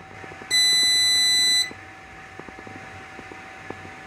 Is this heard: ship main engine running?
no